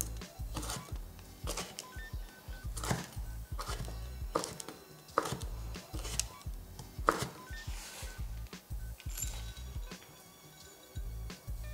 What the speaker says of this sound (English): use a knife and break this down into the smallest pieces possible